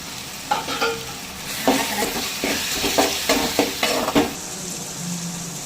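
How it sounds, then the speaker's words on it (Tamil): Tomato and garlic frying for a Tamil crab curry, a spatula scraping and clattering in the pan in quick bursts over a steady sizzle, close and fairly loud, with no talking. "இப்போ பார்த்தீங்கன்னா தக்காளி பூண்டு நல்லா வதங்கிருச்சு"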